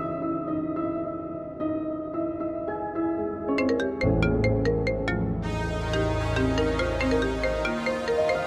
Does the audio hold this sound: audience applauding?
no